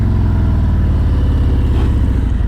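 A motorcycle engine runs steadily through a tight U-turn on a road about 20 feet wide, its mid-pitched drone loud and close with a regular throbbing pulse and no talk over it.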